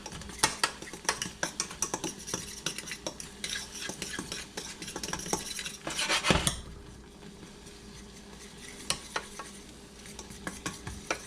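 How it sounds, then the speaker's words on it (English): A roux for clam chowder is worked in a pot, with a spoon scraping and clinking against the metal in quick irregular strokes over a soft sizzle that eases off near the end. "We want to keep on working the roux and keep on mixing it up."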